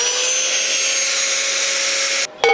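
A power tool cuts through a 20 mm steel shaft with a loud, steady, high-pitched whine that holds evenly, drops out abruptly near the end, then briefly restarts.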